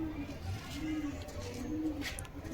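Cooing from a green Giribaz pigeon hen, a low steady murmur with soft repeated throaty pulses running through the whole stretch, fairly close, with faint background noise and no clear talk.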